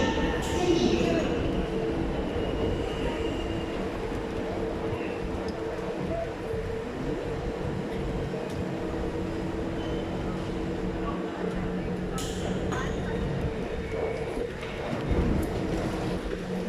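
SMRT metro train standing and running at a Singapore station platform on the line to Changi Airport, a steady low rumble and hum with occasional clanks and hisses, under a public-address voice speaking throughout.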